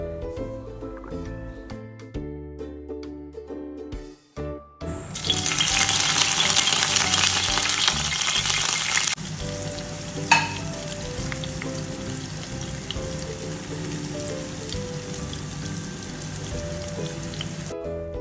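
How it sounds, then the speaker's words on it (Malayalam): Sardines coated in Kashmiri chilli, chilli powder, turmeric and salt hit hot oil in a pan, starting a loud, dense crackling sizzle that settles into a steady fry, with background music playing throughout. "ചാള ഓവർ ഫ്രൈ ആകേണ്ട കാര്യമില്ല. ജസ്റ്റ് ഒന്ന് ഫ്രൈ ആയി കഴിഞ്ഞാൽ നമുക്കത് കോരിയെടുക്കാം."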